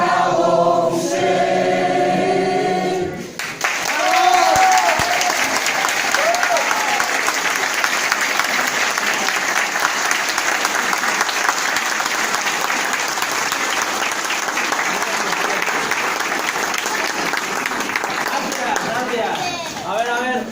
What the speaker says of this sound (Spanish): Un aplauso para esos 50 hombres